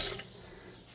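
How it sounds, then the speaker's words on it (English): Tap water runs over fingers during a quick rinse at a kitchen sink while soup vegetables are prepared. The splash is brief and faint and fades within a second. "Give my fingers a little rinse here."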